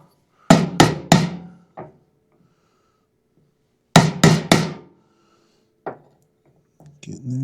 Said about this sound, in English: Hit it with the hammer if I need to,